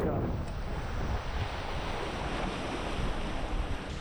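Gusty wind and rushing water while sailing a Nacra 570 catamaran at a regatta on the Kiel Fjord, a constant loud roar with wave wash and no voices.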